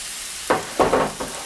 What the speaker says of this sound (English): it's enough to place them in to begin searing